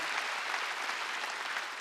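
A church congregation clapping hands during a Sunday worship service, a steady, dense wash of applause filling the room with no voices standing out.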